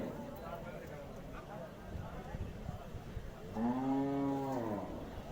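A Sahiwal cow at a village near Mansa gives one long, loud low moo near the end, after soft background noise and rustling.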